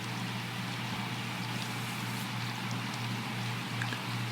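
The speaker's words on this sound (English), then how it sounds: "why this rain and bird sounds" Steady rain falls in a continuous, even hiss with scattered drop ticks, faint and close, with a low hum running underneath and no voices.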